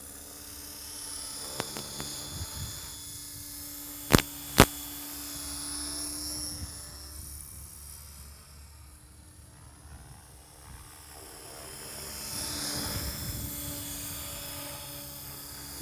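A model helicopter hovering outdoors in normal flight mode gives a steady high whine and rotor buzz that swells and eases over time, with a couple of sharp clicks early on and light wind.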